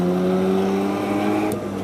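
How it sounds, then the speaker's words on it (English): A rotary-engined car screams at full throttle during a morning cruise, a loud, high, buzzing engine note held steady for a couple of seconds before a slight dip. "re's anything Pete loves more than Serenity, it's a rotary engine on full throttle."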